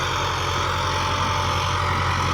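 A 2010 Massey Ferguson 375 tractor engine runs at a steady, even idle, its low droning rumble continuous and close with no pauses.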